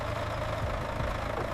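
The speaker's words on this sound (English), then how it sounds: "A diesel engine." A diesel engine running somewhere out in the frozen wilderness at minus 30 degrees Celsius, a steady low rumble and drone holding evenly throughout with no voices over it.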